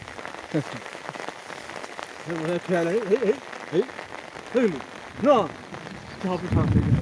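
Heavy rain pours during a thunderstorm, a continuous hiss of drops on surfaces beneath voices singing and talking over it.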